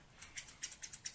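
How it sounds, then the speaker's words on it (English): Scissors snip through a sealed package in a quick run of about nine crisp, evenly spaced cuts, close by and faint, with no one talking. "I'm gonna use a scissors so I can open this package."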